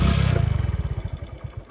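A motorbike with a suspected timing change, in gear, gives a close, loud run of rhythmic engine thumps that start rapid and then slow and loosen as the sound fades.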